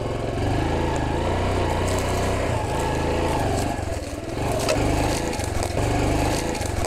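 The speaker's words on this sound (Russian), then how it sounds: "И очень плавно мопед поехал." A G-Moto Cross X moped, a Honda replica, pulls away smoothly in first gear, its small engine putting out a steady low buzzing hum with a slight dip and recovery in revs, heard up close.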